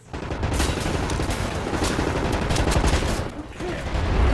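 Sustained submachine gun fire from Wolfenstein The New Order rattles on in a dense, loud burst lasting several seconds, mixed with explosions and combat noise.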